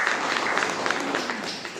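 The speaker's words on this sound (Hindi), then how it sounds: "चलिए जोरदार ताली हो जाएगी" Brief, dense clapping from a seminar audience fills the room, a steady wash of hands that holds at an even level.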